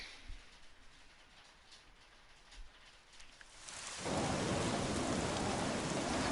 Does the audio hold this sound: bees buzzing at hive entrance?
no